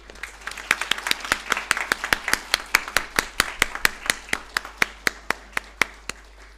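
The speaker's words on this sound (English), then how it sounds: "Can we have a round of applause for them?" An audience applauds at a cybersecurity milestone celebration, heard as a steady run of about two dozen sharp, evenly spaced claps, close and fairly loud, with no talking over them.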